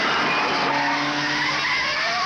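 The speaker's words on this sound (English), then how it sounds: "After passing the car, and it spun at the top of the mountain, coming down, just clips the wall." A race car spins out at Mount Panorama, Bathurst, its tyres squealing in one continuous, loud skid for a couple of seconds, with engine noise underneath.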